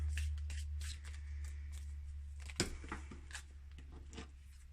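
Tarot cards being shuffled by hand, with soft repeated riffling and flicking bursts and a sharper snap midway, close and fairly quiet over a low steady hum.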